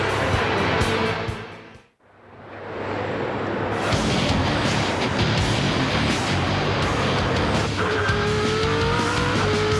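V8 Supercars racing through the opening laps at the Shanghai round in China, with loud engine roars as cars pass close, a brief drop to near quiet, then more engines surging, with a faint tire squeal.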